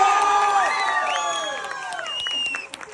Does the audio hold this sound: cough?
no